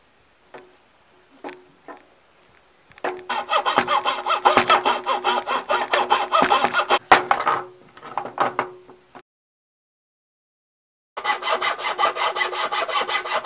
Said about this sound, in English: now we can get drilling and cutting with my coping saw